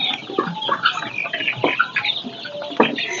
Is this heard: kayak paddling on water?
no